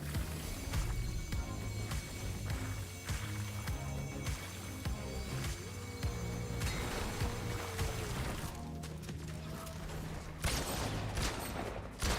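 Video game gunfire, with rapid bursts of shots repeating over a busy, continuous game soundscape and music at moderate loudness.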